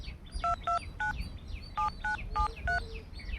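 A telephone keypad sounds about eight dual-tone dialing beeps in a short, uneven sequence, clear and close, with no speech.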